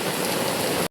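Heavy Mumbai rain pours in a dense, loud, continuous hiss with no voices, cutting off abruptly at the end.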